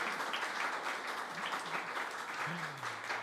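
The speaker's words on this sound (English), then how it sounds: "big round of applause for Fatma Al-Ramehi." An audience claps for a guest at a live sound-design spotlight event, steady moderate applause with a faint voice murmuring beneath it partway through.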